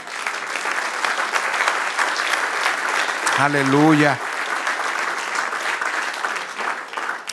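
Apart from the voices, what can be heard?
church congregation applauding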